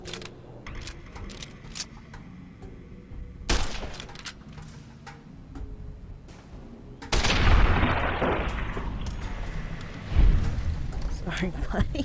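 Video game gunfire breaks out in sharp cracks, first isolated reports, then a loud, dense flurry of shots and impacts, close and harsh, with a voice talking over parts of the action.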